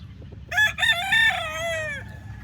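White Kelso gamefowl rooster crowing on a farm in Sto. Tomas, Batangas, one loud close crow with clear harmonic tones that rises and then trails off, over low background farm noise.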